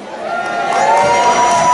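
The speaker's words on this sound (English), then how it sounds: "Give Rachel a big cheer." An audience at a talent show night at The Stanley Club in Burscough cheers and whoops loudly in a continuous, swelling burst of crowd noise.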